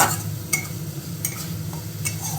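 Chopped tomatoes cook in frying masala for a pabda fish curry, a low sizzle under a few sharp spatula scrapes spaced through the stir, close by with no talking.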